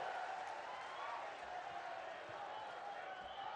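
A large crowd at a public meeting in Shajapur, Madhya Pradesh applauds to welcome Prime Minister Narendra Modi, a steady, distant hiss of many hands clapping at low volume throughout.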